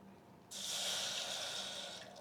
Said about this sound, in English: You're going to need 1/2 cup of water.